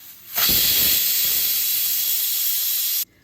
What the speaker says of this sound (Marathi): कुकरची एक शिट्टी झालेली आहे